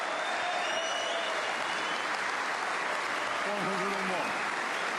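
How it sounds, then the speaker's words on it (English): Snooker crowd at the Waterfront Hall applauding a century break in the Northern Ireland Open final, sustained loud clapping filling the hall, with a commentator's voice briefly over it. "The crowd raised the roof."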